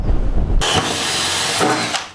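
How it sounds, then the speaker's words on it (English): A power drill whines steadily as it bores through the wall of a converted school bus, starting abruptly after a moment of low rumble and grinding on for about two seconds. "somewhere right around here must be where you're trying to drill through"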